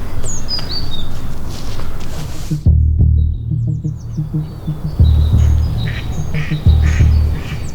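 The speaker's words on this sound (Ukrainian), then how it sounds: "дикі качки з Дніпра так заполонили Запорізький міський парк перемоги" Several bursts of low wild duck quacking come in clusters between quieter stretches in a city park in Zaporizhzhia, with faint bird chirps above and steady outdoor background noise.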